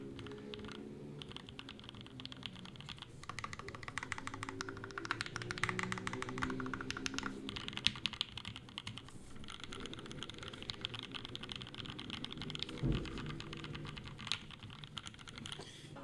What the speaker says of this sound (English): Let's see how the hitting some keys here and there, how they sound.